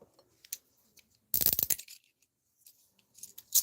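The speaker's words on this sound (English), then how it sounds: "And they still ratchet nicely. Cool Hyatt folding model handcuffs." Hyatt folding handcuffs ratchet shut in one quick, loud metallic clicking burst, followed by faint small handling clicks.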